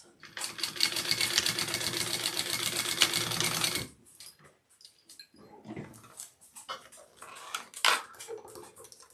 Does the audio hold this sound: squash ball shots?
no